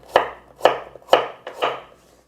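A knife slices through radish on a cutting board while water kimchi is prepared. Four crisp, evenly spaced chops come close and clear, with nothing else heard.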